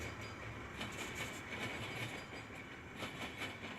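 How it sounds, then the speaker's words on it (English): An eastbound freight train led by three BNSF locomotives and a CN locomotive rolls past, with a continuous rumbling roar and repeated clickety-clack wheel beats, fairly close and steady with no talking. "we have a eastbound this time. 3 BNSF motors and a CN motor."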